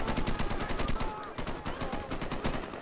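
Sustained rapid gunfire from soldiers battling a Terminator in a Garry's Mod city fight, loud continuous automatic bursts with a regular stuttering rhythm and a brief lull partway through.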